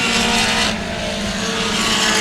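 Race car roaring along the back straightaway of a dirt speedway in Central Texas, a loud sustained engine drone passing close, no talk.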